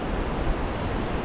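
Broad, steady roaring wash of surf on a shallow beach at low water, with wind buffeting the microphone and no distinct breaks.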